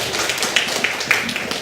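A small audience at a university environmental talk-concert panel claps briefly, a short patter of scattered hand claps at moderate volume in a room.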